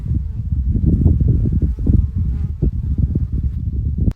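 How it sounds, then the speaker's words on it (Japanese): Honeybees swarm around a backyard hive said to house about 3,000 bees, giving a dense, loud, close buzz that holds steady for the whole stretch. "これミツバチの巣です。 この中に3000匹のミツバチが住んでいます。"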